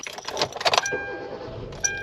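Keys jangle and rattle briefly, followed by a short electronic chime and a soft mechanical whir as a Kia Soul starts, with a second chime at the end.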